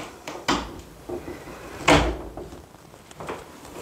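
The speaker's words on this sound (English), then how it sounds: "You close this door." A nail studio door swings shut indoors with a firm knock at about half a second, then closes with a louder thud near two seconds, followed by quiet room tone and faint rustling.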